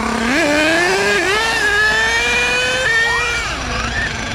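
A 3-speed HPI Savage XL RC truck with a K5.9 nitro engine screams at high pitch nearby, revving up and down in rising and falling surges that hold loud and continuous throughout.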